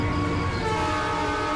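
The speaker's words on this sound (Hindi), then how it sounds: "चलिए मैडम जी, ट्रेन आ गई है।" A train pulling into a station in India, its horn sounding a sustained, steady tone over low rumbling rail noise, loud and close throughout.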